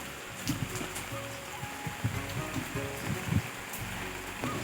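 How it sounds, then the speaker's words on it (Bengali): Heavy monsoon rain pours down outdoors near a household shrine, a dense steady wash of hiss with scattered close splashes and drips. "এত বৃষ্টি পড়ছে"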